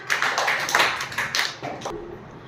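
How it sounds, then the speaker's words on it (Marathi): A group of children clap together in a classroom during a maths matchstick puzzle game, a brisk ragged round of applause that stops abruptly near the end. "आदित्यसाठी सुद्धा जोरात टाळ्या"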